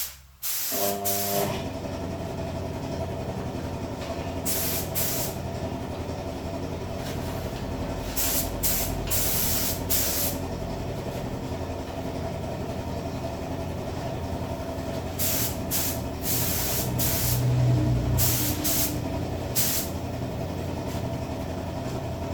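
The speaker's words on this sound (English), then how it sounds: "And now it's time for some clear coat." A spray gun lays clear coat onto a Golf MK2 GTD. A constant loud hiss runs throughout, broken by repeated short, sharp bursts of spraying at close range.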